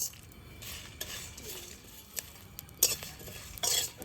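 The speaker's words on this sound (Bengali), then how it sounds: "এবার মশলাটা আমি বেজে নেব লঙ্কাটা আর আদা এই ধনেটা আগে বেজে নিই" Chili, ginger and coriander dry-roast in a pan, a faint sizzle under scattered metal spoon scrapes and clinks against the pan.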